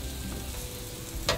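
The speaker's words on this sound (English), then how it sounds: "I want to put this guy right here to get that sizzle in between the grill marks" Pork loin sizzles on a GrillGrate over a grill, a steady dense frying hiss throughout with a brief louder flare at the end, no talking.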